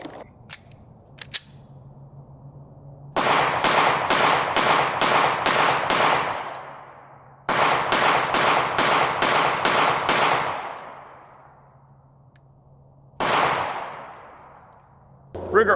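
Ruger RXM pistol firing Fiocchi ammunition at a shooting range: loud, sharp shots in three strings, six rapid reports, then six more, then a single shot, each trailing a ringing echo.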